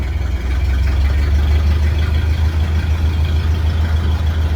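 A 1931 Ford Model A pickup engine runs steadily under extra throttle, a loud, close, low rumble with a rapid, even beat and no talk over it.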